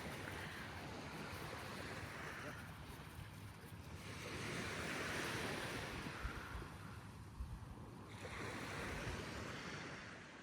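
Ocean surf rolling onto a desert beach in the UAE, slow swells of washing noise rising and falling with wind buffeting the microphone, no voices.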